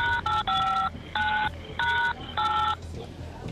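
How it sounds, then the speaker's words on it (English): Touch-tone telephone keypad buttons pressed in a quick series of six or so clear, evenly spaced dual-tone beeps, loud and close, with faint background noise between presses. "Don't press any buttons on the phone so I can hear you."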